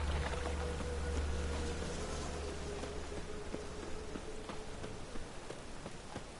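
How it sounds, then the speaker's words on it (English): Steady rain in the video game The Witcher 3 patters continuously with scattered heavier drops, a low hum underneath, no voices. "Rain again."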